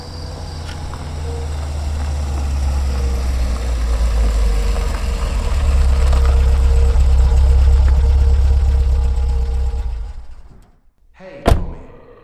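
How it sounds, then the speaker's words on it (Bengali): A car engine arrives at night, a steady mid-pitched rumble that idles for several seconds, then cuts out and is followed by a single sharp thunk like a door shutting. "একটা গাড়ির শব্দে তন্দ্রা ভেঙে গেল।"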